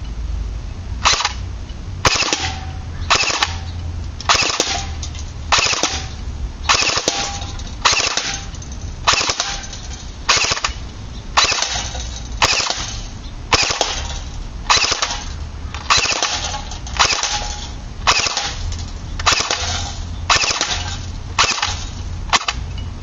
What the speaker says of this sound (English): And this gun has no semi-automatic, it's just full.